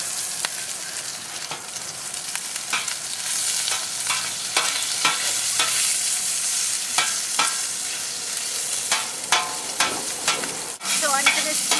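Mild Italian sausage sears in a hot pan with a steady, dense sizzle, close and loud, punctuated by scraping stirs and small pops throughout.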